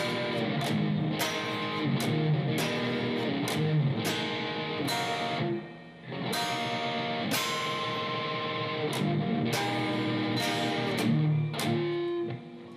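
Electric guitar plays the third part of a song slowly, with strummed power chords and string hits in a steady, loping rhythm, clear and upfront with no talking.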